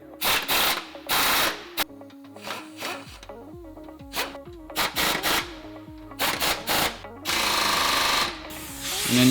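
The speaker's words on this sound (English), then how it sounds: "Tighten down the large 22mm bolts all the way" Impact wrench rattling in repeated bursts as large 22mm subframe bolts are tightened on a Lexus ISF, loud and close, with short pauses between the hammering runs and a longer sustained burst near the end.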